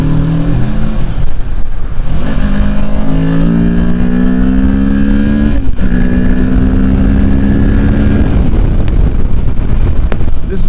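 2023 Kawasaki Ninja 650 ridden hard in fourth gear, a loud engine climbing steadily in pitch through the revs with heavy wind roar buffeting the microphone.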